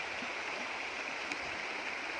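A small stream on a farm flows with a steady, even rushing and gurgling wash that stays constant and fairly close for the whole moment, with no voices.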